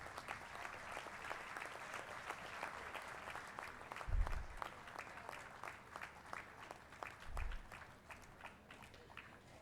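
At a university convocation ceremony, an audience gives a long round of applause, faint and roomy, with distinct claps over a steady patter and a couple of low thumps partway through.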